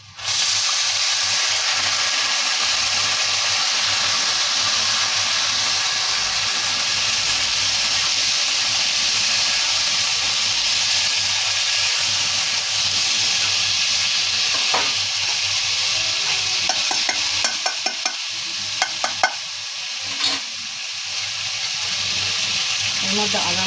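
Lentils (dal) hit hot oil in a pan and sizzle loudly and steadily, a dense frying hiss that holds throughout with a few sharp clatters and stirring knocks near the end.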